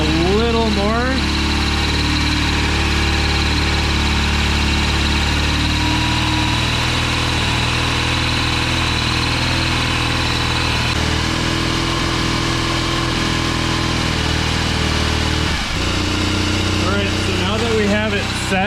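A BMW R1100 motorcycle engine idles during a throttle body sync. The close, continuous, even mechanical rumble holds steady throughout, with voices talking over it.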